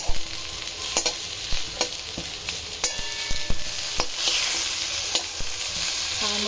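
Brinjal slices frying in oil in a pan for a khichuri meal, a steady sizzle broken by repeated sharp clicks and scrapes of a spatula stirring and turning, close and clear with no talk.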